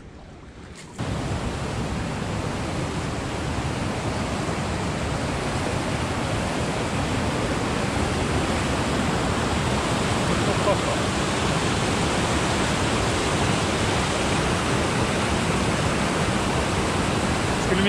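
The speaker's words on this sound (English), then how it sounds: "That is an amazing waterfall." A waterfall in the wilderness roars steadily, a dense, loud wash of rushing water that starts abruptly and continues unchanged throughout.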